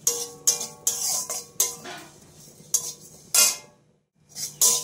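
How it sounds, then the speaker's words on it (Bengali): Cumin seeds being dry-fried and stirred in a pan for khichuri, with repeated clinks and scrapes of a utensil against the metal at an uneven rhythm, close and moderately loud, alone without talk. "তো তার জন্য আমি একটু জিরে ভেজে নিচ্ছি।"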